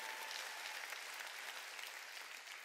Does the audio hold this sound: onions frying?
no